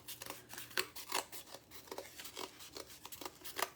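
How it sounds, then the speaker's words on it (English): Scissors snip around a circle in a sheet of book paper with a quick, uneven run of faint crisp cuts, close up and alone. "Okay, so I'm just cutting a circle out."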